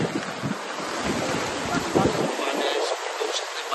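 Floodwater around a village outside the houses makes a steady broad rushing roar that stays constant throughout. Wind buffets the microphone on and off.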